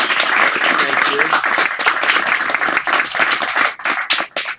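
An audience applauds after a poetry reading, a lively burst of close hand clapping that holds steady and then tapers off unevenly toward the end, with a voice speaking over it.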